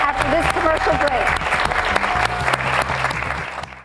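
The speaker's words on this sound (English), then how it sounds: "give her a big clap" A TV studio audience claps at a women's show taping, giving steady, loud, dense applause throughout that fades out at the end, with a voice talking over it.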